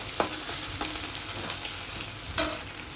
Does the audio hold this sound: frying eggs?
yes